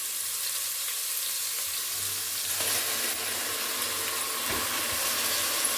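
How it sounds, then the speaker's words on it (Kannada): Ground vegetable paste frying in oil for a tempering, a steady soft sizzle throughout, with a faint stirring scrape partway through. "ಇದನ್ನು ಎಣ್ಣೆಯಲ್ಲಿ ಚೆನ್ನಾಗಿ ಸ್ವಲ್ಪ ಈ ಥರ ಹುರ್ಕೋಬೇಕು."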